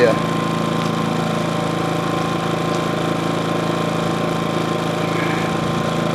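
A Harbor Freight Predator 2000 generator runs with eco mode off, a steady, loud, close engine drone with a buzzing mechanical tone that holds even throughout without pauses.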